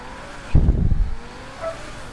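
Progen T20 sports car in a video game, a short burst of engine roar and tire noise that swells and fades within a second, with a faint trailing whine afterward.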